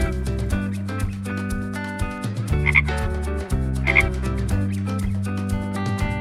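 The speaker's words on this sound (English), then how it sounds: "Frog." Repeated frog croaks pulse through a steady musical backing, fairly soft and evenly spaced.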